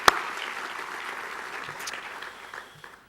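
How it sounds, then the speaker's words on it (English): An audience applauds at the handover ceremony of the C40 chair, a brief, dense burst of clapping that fades out over about three seconds. "maybe we can give the CCI and President Clinton a little round of applause."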